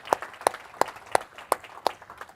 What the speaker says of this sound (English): Let's get a round of applause for Arina and Cotecna.